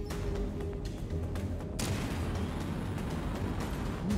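Turrets in the game Chorus fire in a dense, sustained barrage of rapid blasts and booms that jumps in intensity partway through, heard fairly quietly and without talk.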